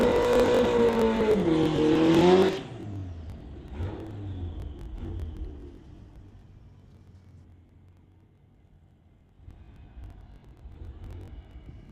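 A Volkswagen Beetle and a 1987 Honda Prelude launch in a drag race, engines roaring loud with tire squeal for a couple of seconds before the sound fades into distant rumbling, with a faint engine swell returning near the end.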